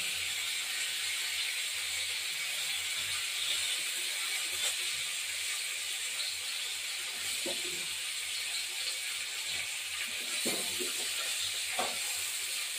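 Steady loud hiss and sizzle of a fish curry frying in a pan as tomato and green chillies go in, with a few soft clinks and knocks over the constant spitting oil.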